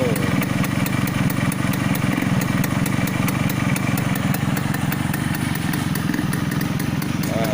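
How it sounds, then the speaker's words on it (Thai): A Suzuki K125 motorcycle engine runs steadily up close, a continuous low rumble with rapid rhythmic pulsing and no pauses. "เดี๋ยวเข้าไปฟังเครื่องยนต์กัน"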